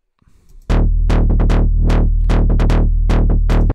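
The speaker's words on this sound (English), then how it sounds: "you can hear that this is a lot more snappy and actually sounds like a pluck" Snappy synth plucks from Serum with fast filter automation, a dozen or so sharp bright notes in an uneven melodic rhythm, each decaying quickly, loud and close with a steady low bass underneath.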